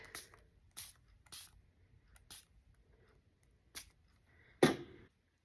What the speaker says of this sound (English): just randomly spray a little bit of red